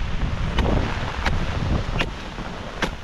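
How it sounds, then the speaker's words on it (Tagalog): Strong wind gusting outdoors along a rural provincial road, a steady broadband roar with a few sharp bursts and buffeting against the microphone, no voices. "Yan, lumakas ng hangin."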